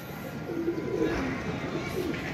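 Pigeons cooing around a rooftop water tank where pet pigeons are kept: soft, low, throaty coos repeating in a gentle rolling pattern, fairly close, over a steady outdoor background hiss with no clear talk.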